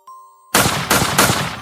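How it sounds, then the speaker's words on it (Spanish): Gunshot sound effect in a narrated horror story: after a faint tone, three loud, sharp blasts ring out in quick succession, each with a lingering noisy tail. "El primer disparo rompió el silencio de la calle."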